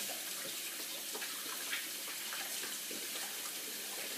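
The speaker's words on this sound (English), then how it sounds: "I'm going to wash my hands." Hands being washed under a running kitchen tap after handling raw lamb for shawarma: a steady, even hiss of flowing water, continuous and close, with no talking.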